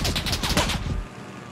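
Rapid automatic gunfire in PUBG with heavy recoil, a tight burst of about a dozen loud close shots lasting roughly a second, then cut off into quiet.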